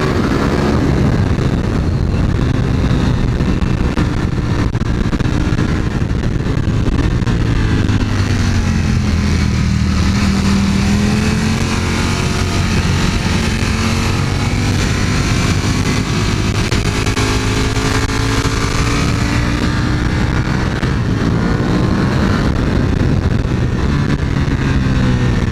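A Ducati Panigale V4 S sport motorcycle roars on a test ride, its engine note rising and falling as it revs and shifts through gears, loud and close with strong wind rush throughout.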